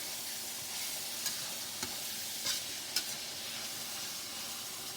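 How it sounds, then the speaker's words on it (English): Ground beef stirred and browned in a pan with onions, a steady close sizzle broken by a few sharp spoon scrapes and clicks against the pan, with no talking. "I'm just going to stir this around so my meat browns good"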